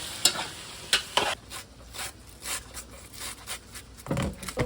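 Sliced tomatoes stirred into a palm oil stew make quiet scraping and clattering strokes in irregular bursts over a faint sizzle, soft and close, with a heavier stirring rush near the end.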